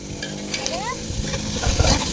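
Meat goes into a hot pan, sizzling loudly up close while it is stirred, with scraping and clattering that swell toward the end and talk faintly in the background.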